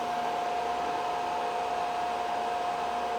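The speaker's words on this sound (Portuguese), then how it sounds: "tirando o ruído dos coolers, ela é uma impressora bem silenciosa" Cooling fans of a Tycoon IDEX 3D printer run with a steady, loud, even whir and no break or change over the few seconds.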